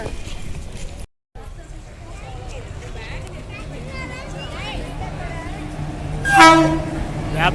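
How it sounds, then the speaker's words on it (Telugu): A Circar Express train hauled by a WAP-4 electric engine arrives at a station platform, rumbling steadily as it approaches and sounding a loud horn blast near the end, with a voice talking over it. "ల్యాబ్ 4 ఇంజిన్తో అయితే మన ట్రైన్ అయితే దూసుకొస్తుంది."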